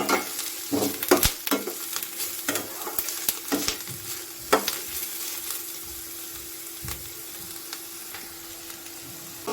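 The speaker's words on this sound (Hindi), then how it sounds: "प्याज को मैं ट्रांसलूसेंट होने तक फ्राई करूंगी।" Chopped onion frying in a hot pan, a continuous close sizzle broken early by several sharp scrapes and taps of a spatula, the stirring thinning out as the frying settles into a steadier hiss.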